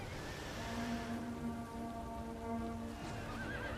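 Horses of a light cavalry unit in Total War: Rome 2 neigh and whinny under fire, a drawn-out whinny over a soft rumbling battle background, with hooves faintly clopping.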